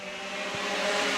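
Pure stock race cars restarting at Star Speedway, engines droning steadily in a broad, sustained roar that builds slightly in loudness as the field gets underway, with no talk over it.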